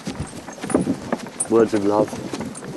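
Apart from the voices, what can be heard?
horse hooves clip-clopping while being ridden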